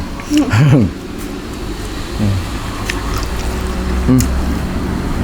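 Road traffic noise heard from a house beside the road, vehicles passing nearby, a steady rumble and occasional louder swells as cars go by.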